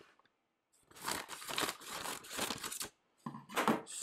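Packaging on a vintage Hirobo Toyota Hilux RC model kit box being torn and crinkled open: bursts of close tearing and crumpling, separated by short pauses.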